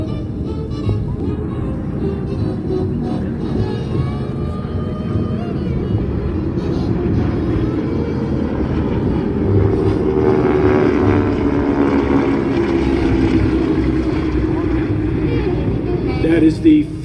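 Propeller of a Pratt & Whitney R13-series radial-engine airplane making an airshow pass, a loud, steady droning roar that swells and holds throughout, with faint voices underneath.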